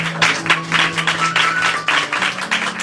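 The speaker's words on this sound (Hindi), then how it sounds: "उस परमेश्वर ने जिसने हमारे लिए लहू बहाया, उसके एक जोरदार तालियां हो जाए" Church congregation clapping loudly in praise during a service, a bright wash of applause with a sustained musical tone underneath throughout.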